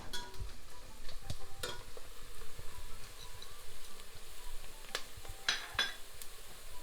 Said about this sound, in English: let the onions cook and let it saute and sweat for at least 5 minutes